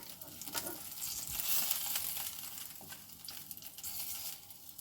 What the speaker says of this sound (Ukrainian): Поки я смажу першу порцію сирників, я формую собі наступну порцію для смаження.